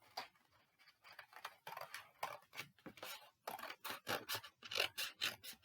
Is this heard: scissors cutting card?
yes